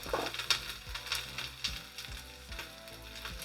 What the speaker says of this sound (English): All I'm trying to do is get kind of a light saute on them.